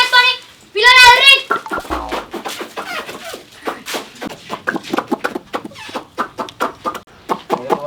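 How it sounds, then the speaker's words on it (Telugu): Chickens in a Telangana village squawk and cluck loudly in two short bursts near the start, then people talk close by for the rest. "కోడి దొరికిందిరా"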